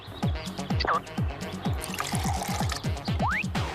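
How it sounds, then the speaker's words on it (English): Liquid pours in a rapid run of glugging, gurgling bursts, close and clear, as vinegar is added to water for a baking-soda rocket experiment. "Just add a half a cup of vinegar to a half a cup of water."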